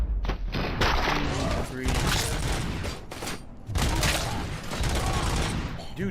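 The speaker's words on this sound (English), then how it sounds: "hipfire headshots with explosive gore are pretty wild" Gunfire in the RoboCop video game: heavy bursts of loud shots and booming impacts with thuds and mechanical clanks, interrupted by brief gaps and mixed with game sounds.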